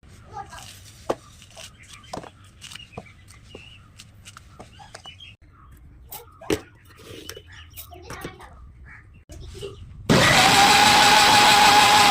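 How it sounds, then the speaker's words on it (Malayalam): A kitchen blender whirring two oranges into juice bursts on suddenly near the end, a loud, steady, high-pitched whine after a quieter stretch of scattered household noises, chirps and a voice. "ഓറഞ്ച് ഇരിപ്പുണ്ട്, പിന്നെ 2 ഓറഞ്ച് എടുത്ത് 2 ജ്യൂസും കൂടി അടിക്കാൻ പോകട്ടെ"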